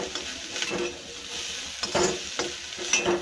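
A mix of lentils and egg being stir-fried with ghee in a pan, a soft steady sizzle under repeated scraping strokes of a spatula, with a few brighter clinks against the metal.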